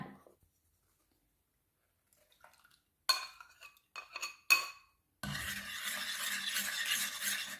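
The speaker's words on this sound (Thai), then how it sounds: "แล้วก็ละลายให้เข้ากันดีเลยนะคะ" Stirring a hair keratin mixture to dissolve it: scraping and clinking bursts from a utensil against a container, a few separate strokes, then steady continuous stirring noise, close and fairly loud, no talk.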